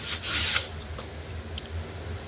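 Hand sanding wood with a folded sanding belt, a close, gritty rasping scrape in several quick strokes, with soft rubbing between passes and no voices.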